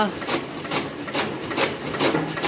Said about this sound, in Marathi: पाठीमागचं गवत कापून काही कुट्टी करायला चालू आहे